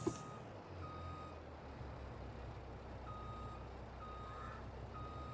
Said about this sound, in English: that's the truck that's up here to pick up that back over there